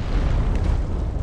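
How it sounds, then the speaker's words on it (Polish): Exploding arrows detonating in Dark Souls 3, a deep continuous rumbling blast that fills the whole short stretch at steady loudness, with no voices over it. "Te strzały, swoją drogą, zobaczcie, one po chwili wybuchają, nie?"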